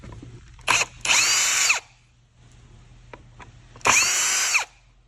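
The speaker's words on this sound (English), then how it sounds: "you're going to remove these two screws, which you can use a screw gun or a regular screwdriver" A power screw gun backs screws out of a Rigid RA770 or MA440 machine during a main cord replacement, with two sustained whirring bursts and short clicks and taps between them, close and loud in a quiet room.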